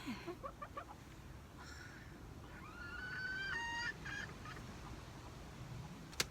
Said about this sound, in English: She is a lavender Pekin Bantam.